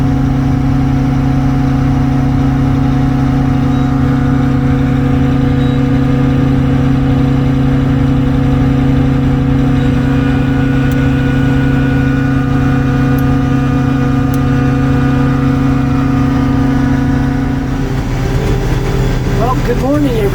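Case 2594 tractor engine idling steadily with a deep, constant drone, then the sound breaks up near the end as the engine is shut down.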